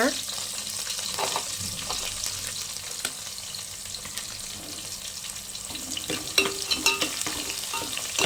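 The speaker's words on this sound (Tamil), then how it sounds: "இந்த மாதிரி பொடி பொடி பொடியாக வெட்டி வச்ச வெங்காயத்தை சேர்த்துக்கோங்க" Finely chopped onions fry in a pan for a dried anchovy and cowpea curry, giving a steady close sizzle with stirring scrapes and clatters throughout.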